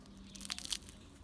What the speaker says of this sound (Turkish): Kıtır kıtır bir börek.